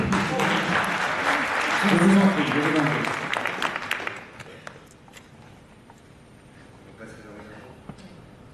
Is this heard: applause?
yes